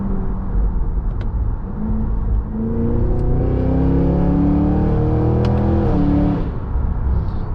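2024 Cadillac Escalade V engine in its loud V mode while cruising around town, a deep burbling exhaust that climbs through several rising revs, close and prominent from inside the cabin, with occasional faint clicks.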